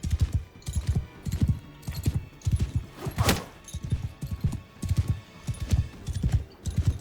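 A horse gallops in Mount & Blade II Bannerlord, its hooves pounding out a steady, rapid clip-clop rhythm that runs close and clear through the whole stretch.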